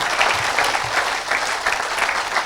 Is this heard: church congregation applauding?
yes